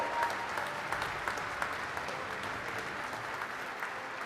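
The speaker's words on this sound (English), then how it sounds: "Please join me in giving these outstanding photographers a round of applause." An audience at a photography award ceremony applauds the recipients with steady, moderately distant clapping that carries through the whole stretch without a break.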